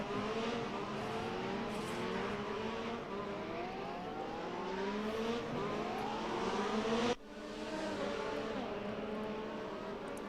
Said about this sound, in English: And the sounds of the F1 cars are just too immaculate.